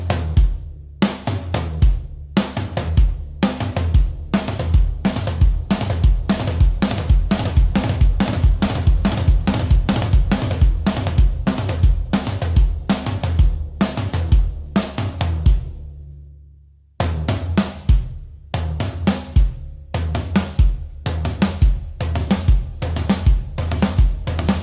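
A drum kit plays a fast triplet idea built on the single-stroke four rudiment, with dense rapid strokes moving around the toms and snare over kick drum. There is a brief pause midway, then the pattern resumes loud and close.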